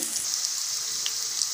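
Capsicum sizzles in a hot pan for paneer chilli, a steady close crackle of frying with a few sharper pops and no voices.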